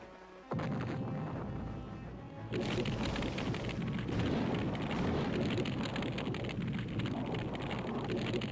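A boat explodes in a loud, sustained roar that surges and keeps rumbling and crackling like heavy debris and fire, with no talking.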